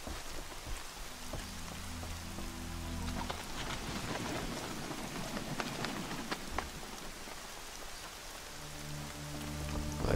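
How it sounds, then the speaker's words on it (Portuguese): Steady rain in the video game Horizon Zero Dawn patters across the whole stretch, with a low rumble swelling underneath at the start and again near the end. "a chuva aqui tá topzera das topzeiras"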